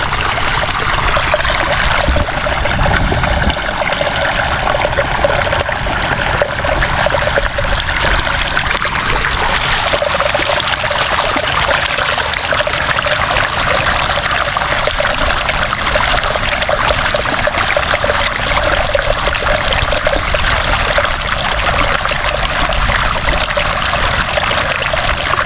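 Water flows steadily and loudly without a break, a continuous rushing stream heard close up with no voices over it.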